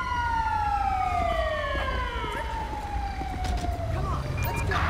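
An ambulance siren in the video game GTA 5 wails with a long descending tone that slides steadily downward, fairly loud over a low engine rumble and background noise.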